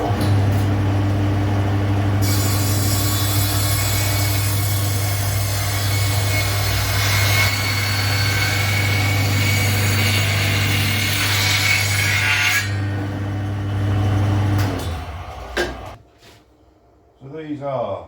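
A power saw rips lengthwise down wooden boards for window making, a loud continuous grinding drone for about fifteen seconds before spinning down, followed by brief quieter handling noises.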